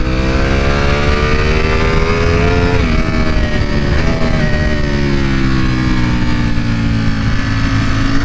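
A 2021 Ducati V4R superbike engine runs steadily at low throttle, a loud, continuous rich harmonic drone with gently shifting pitch and no voices.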